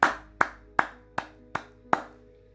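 Six sharp, evenly spaced hand claps ring out alone at close range, each crisp strike followed by a brief ringing decay over a low steady hum.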